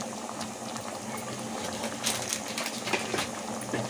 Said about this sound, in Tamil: சாம்பார் தாங்கல் தண்ணி சேர்த்துட்டு நம்ம நல்லா ஒரு கொதி கொதித்து வரட்டும்